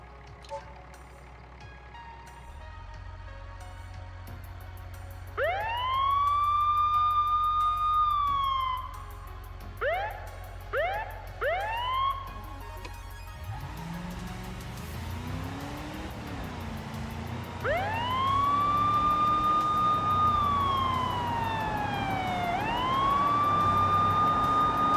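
A wailing ambulance siren rises and falls in a car simulator video game, sweeping up and down in long cycles with short chirping bursts between, over a low engine rumble; a person talks at times.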